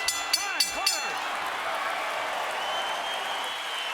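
An arena crowd roars and applauds during a professional boxing match between Shane Mosley and Sergio Mora, opening with a few sharp impacts before settling into a sustained wash of cheering.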